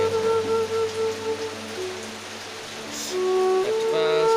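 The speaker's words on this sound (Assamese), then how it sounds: "বৰষুণ এতিয়ালৈকে এৰাই নাই। ঘৰৰ পৰা ওলাবই পৰা নাই। বহুত দি আছে বৰষুণ।" Heavy rain pours steadily at a rural home during a flood, a dense continuous wash of falling water with a faint tonal hum underneath.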